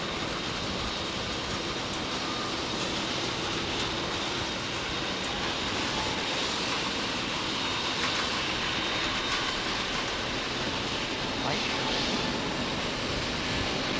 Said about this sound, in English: Qatar 777 special livery taxi for departure